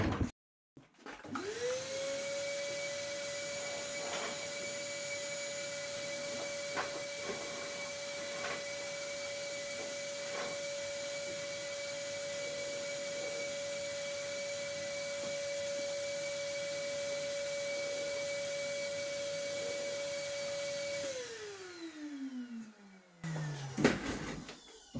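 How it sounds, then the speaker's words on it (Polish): A DeWalt DXV20PC cordless vacuum running in blower mode in a workshop whirs up to a steady high-pitched whine with a rushing airflow, holds evenly for a long stretch, then winds down and stops. "Odkurzacz ma funkcję dmuchawy."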